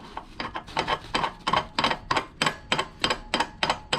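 A nut is spun by hand onto a threaded spindle over a washer, making a rapid series of gritty rasping strokes in a regular rhythm, close and distinct with no talking.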